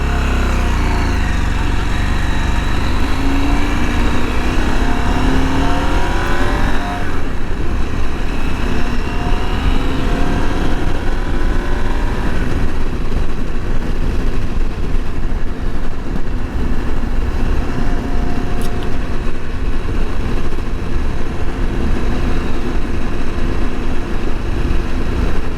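A KTM 890 Adventure R motorcycle engine drones steadily while riding, loud and continuous, with engine tone shifting as speed changes and heavy wind rush mixed throughout.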